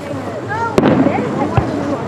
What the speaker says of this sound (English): Is that the grand finale? The eternal question of the fireworks show.